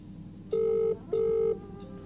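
Two steady electronic tones from a phone being dialed, each held about half a second with a short gap between them, over a quiet background.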